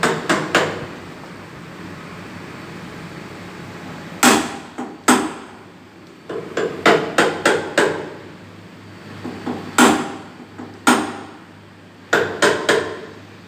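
A mallet taps a workpiece clamped in a mechanical vise, giving sharp, close knocks in small irregular clusters with pauses between them, over a faint steady hum.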